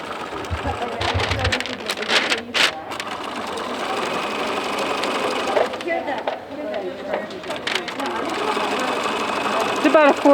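A sewing machine runs in quick bursts as it stitches elastic onto a Tyvek hospital gown, close and fairly loud, with short pauses and handling noise between runs.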